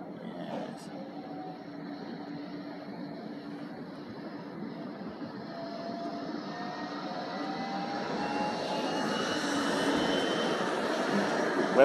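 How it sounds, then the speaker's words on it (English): A tram rolls along the seafront promenade, a steady broad rumble with faint squealing tones that slowly grows louder and closer over about twelve seconds. "There's a tram coming down."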